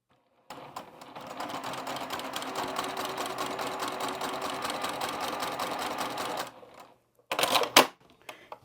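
A sewing machine stitches a quilting square with a steady, fast run of needle clatter for about six seconds, then stops, followed by a brief burst of handling noise near the end. No one speaks.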